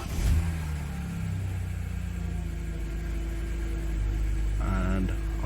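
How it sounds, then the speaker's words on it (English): A BMW 325i E90 engine starts up close by after an oxygen sensor replacement, a quick burst settling into a steady, low, even idle rumble. "we're going to start the engine and see if the check engine light returns"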